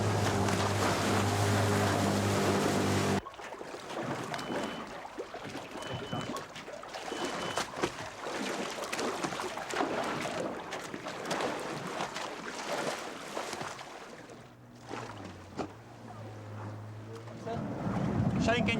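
Boat engines running at sea on a wildlife expedition tracking a tiger shark, a loud engine drone at first that drops away into wind, waves and lighter engine rumble, with some talk over it.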